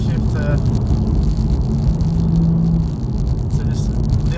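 A BMW M4 GTS engine pulling in fourth gear at around 60 mph, a steady loud drone from inside the car under continuous road noise, with someone talking over it.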